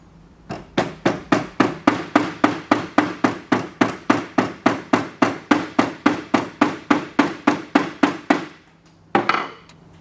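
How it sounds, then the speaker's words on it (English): Javelin grip cord being gently hammered flat at one end: around thirty quick, even taps in a steady rhythm, close and moderately loud, then a short pause and one last strike. "gently hammer flat one end of your grip cord"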